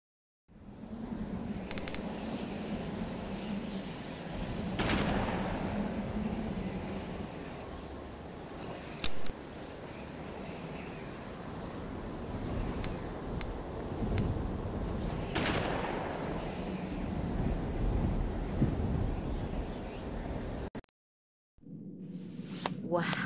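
Gunfire during a hunt in the Dreamcast game D2, sharp shots spaced several seconds apart over a continuous game backdrop, with people talking over it.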